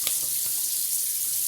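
Tap water running into a sink while an alum block is rinsed during shaving, a brief, steady hiss of flowing water close by.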